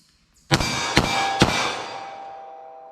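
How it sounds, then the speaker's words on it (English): Three 9mm pistol rounds are fired at a target in quick succession, each a sharp, loud bang about half a second apart, with a long ringing decay after the last. "I'm going to pop off 3 rounds"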